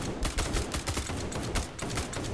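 Rapid automatic gunfire from the video game SCP 5K rattles steadily and loudly for a couple of seconds, close up and dense, with no voices over it.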